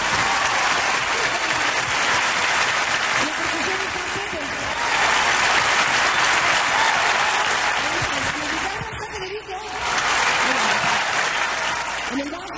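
Concert audience applauding the band at a show, sustained loud clapping and crowd noise across the whole stretch, briefly dipping then swelling again, with a voice speaking over it.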